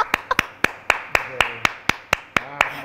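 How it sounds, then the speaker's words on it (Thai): About a dozen sharp hand claps from one or two people, evenly spaced and near, landing at a steady rhythm with a little reverb trailing each one. "ขอปรบมือให้กับสามีดิฉันที่ใส่ชุดนอนคิตตี้ด้วย"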